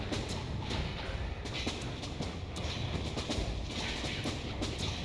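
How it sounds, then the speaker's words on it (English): A turboprop-powered monorail in a video game runs with a continuous rushing, rattling clatter, steady and fairly loud without a break. "It's a turboprop powered monorail?"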